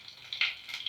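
Mustard seeds and urad dal crackle and sizzle in hot oil for a drumstick-leaf poriyal, a faint hiss with small popping bursts.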